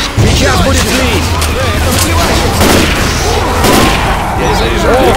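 Grenade launcher blasts in Left 4 Dead 2, several loud booms and bursts of gunfire in a dense, continuous game fight, with players shouting over the chaos.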